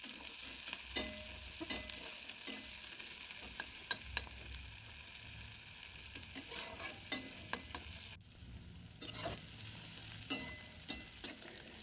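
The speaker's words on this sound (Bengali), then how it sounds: "এরপর গরম তেলের মধ্যে দিয়ে দেব পেঁয়াজ কুচি" Chopped onions fry in hot oil after fish has been fried in it, giving a steady, moderate sizzle with occasional sharp clicks of stirring against the pan.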